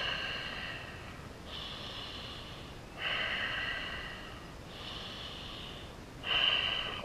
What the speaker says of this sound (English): It's good breathing, I hear you.